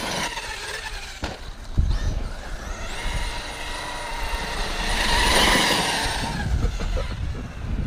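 A Thunder Tiger e-MTA G2 RC truck on a 6S battery whines at quarter throttle, its electric motor rising into a steady high pitch over rough rolling noise and tire scuffs through shrubbery, close by.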